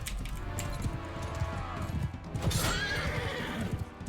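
A horse whinnies loudly in a Mount & Blade Bannerlord battle, with hooves clopping and clatter around it, all fairly close and busy from start to end.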